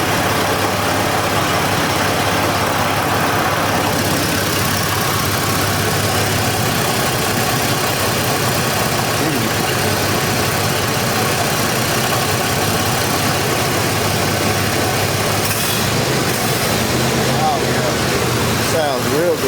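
A 1984 Mercury Capri engine idles steadily as it warms up, with a continuous close rumble and some rattling, while a person talks over it.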